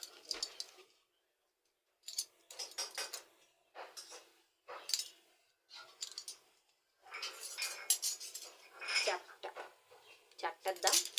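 Metal spoons bought at a fair clink and rattle as they are handled, in short bursts separated by gaps, with talk nearby.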